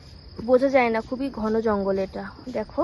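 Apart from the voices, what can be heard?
crickets chirping in dense hental jungle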